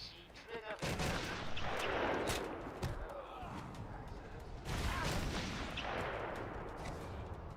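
Sniper gunfire in Batman Arkham Asylum: two heavy gunshot booms, each followed by a long echoing crash and rumble, with a voice talking faintly underneath.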